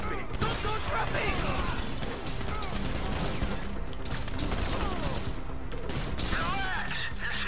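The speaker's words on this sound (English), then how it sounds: "Shots are coming from across." Gunfire in the video game GTA 5, dense repeated shots under a steady wash of game noise and music, with voices talking over the action throughout.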